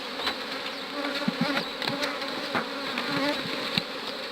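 Honeybees swarm and buzz steadily around an opened hive box during a hive split, a dense close drone with scattered sharper passes of individual bees flying near.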